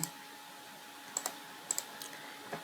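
Quiet typing on a computer keyboard: a handful of separate key clicks, some in quick pairs, spaced irregularly over a faint steady hum with no talking.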